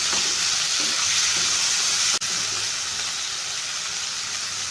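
Chicken pieces and green chilies sizzle steadily in a hot pan, a loud continuous frying hiss with light stirring scrapes and one brief clunk midway, with no voices.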